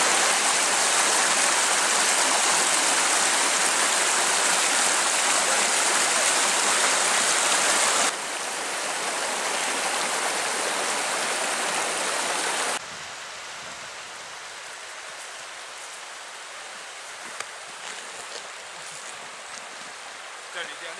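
Steady broadband rush of flowing water, continuous and fairly loud throughout, with level shifting in a couple of steps as if moving along the stream.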